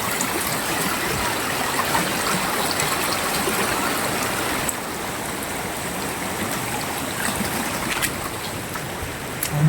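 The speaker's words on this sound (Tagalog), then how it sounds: "Grabe, sobrang lakas ng ulan dito." Heavy rain pours down while floodwater rushes past in a river and over a road, a loud, unbroken roaring wash that holds steady throughout with no voices.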